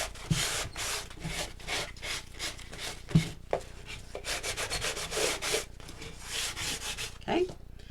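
Cloth buffing clear wax over a wooden sewing machine drawer, a steady series of close, soft rubbing strokes in quick back-and-forth rhythm throughout, with brief knocks in between.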